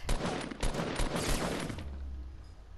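Gunfire from a Fortnite battle royale match, a loud close burst of several rapid shots over roughly two seconds that then drops away into a quieter game-world hum.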